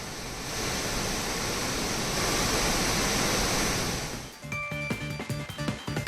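The flooded waterfalls at Hogenakkal on the Kaveri river give a dense, loud, continuous roar of rushing water for about four seconds. It then gives way to quieter scattered clatter. No voices.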